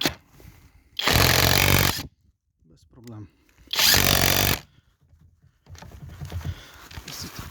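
Stromo AWA25 budget impact wrench run at maximum speed on rear wheel nuts: two loud, sustained rattling hammer bursts of about a second each, separated by quiet pauses and brief talk, followed by a softer mechanical whir.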